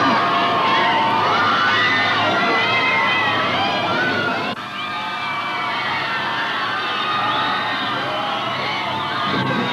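A large crowd of Beatles fans cheers and shouts outside a London theater, a dense continuous roar of screaming voices with high children's shrieks, loud and sustained throughout.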